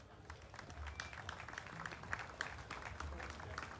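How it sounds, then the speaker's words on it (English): A State Fair audience gives the Kaler cattle family a round of applause, a fairly faint, steady crowd clapping throughout. "Let's give the Kalers a round of applause."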